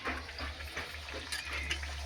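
Luchi, puffed Bengali fried bread, frying in hot oil, a brief continuous sizzle with light bubbling and faint utensil scrapes, close and steady, no talking.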